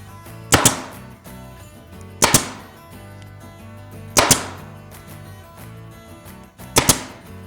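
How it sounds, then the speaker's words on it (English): Nail gun fastening a SAAD seat cover onto a BMW R1300 GS Adventure motorcycle seat: four sharp, close, loud snaps spaced a couple of seconds apart, each a quick double crack, with a quiet workshop hum between them. "I held it down with the nail gun"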